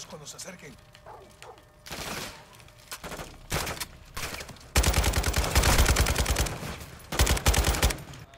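Rapid gunfire bursts from the Call of Duty Modern Warfare 2 campaign, sparse shots early that build into loud, sustained automatic volleys with brief pauses, close and dominant.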